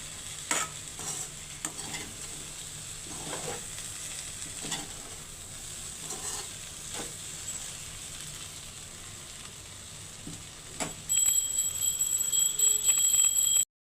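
Okra and peanut fry gently stirred in a pan: soft, intermittent spatula scrapes and taps over a low continuous sizzle, growing into a louder steady frying hiss near the end, no talking.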